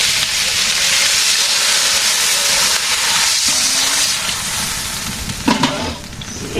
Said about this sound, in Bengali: সবজি তখন হয়েছে এখন ভেজে দেবো